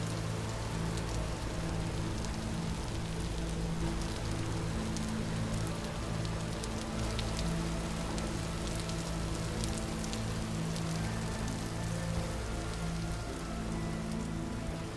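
Steady rain falls in the survival video game Vintage Story, a dense, even patter on surfaces that continues unbroken and fairly close throughout, with no talk over it.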